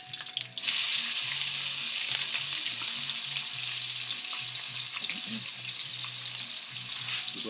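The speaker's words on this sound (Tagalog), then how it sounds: "Gisa natin yung sibuyas." Chopped onion sautéing in a pan, giving a continuous loud frying hiss and sizzle with occasional stirring, a low steady hum underneath.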